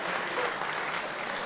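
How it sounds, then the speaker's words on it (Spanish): An audience at a weekly assembly claps in a sustained, dense burst of applause, steady and fairly loud throughout with no pauses. "Un aplauso para ella."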